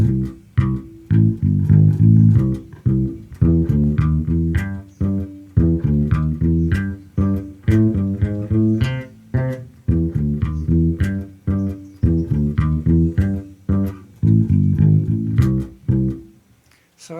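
An electric bass plays an eight-bar blues line with chromatic approach notes between the chords, in steady, punchy plucked phrases that are loud, close and alone, with brief pauses between the phrases.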